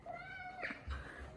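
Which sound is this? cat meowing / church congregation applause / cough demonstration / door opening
cat meowing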